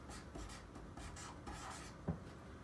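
A pen writes on paper during a classroom lesson, soft scratchy strokes in short uneven bursts with a small tap near the end, close and quiet.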